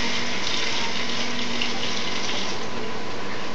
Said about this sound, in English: Then you gotta rinse your knife off.